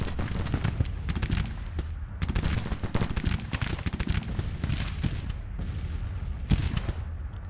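Civil War regiment musket volleys in Grand Tactician: the Civil War strategy game, a loud, dense crackle of many scattered shots firing at will with booming reports, continuous and without talk.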